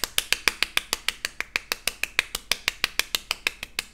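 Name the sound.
one person clapping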